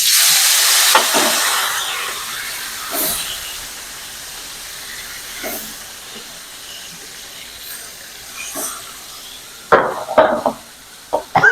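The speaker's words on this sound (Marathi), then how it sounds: "असे मोठे मोठे मासे आपले पहिले मध्ये टाकून घ्यायचे कढईत." Large fish slid into hot oil in a kadhai, giving a loud steady hiss of frying that fades to a softer sizzle with a few sharp splashes and clatters near the end.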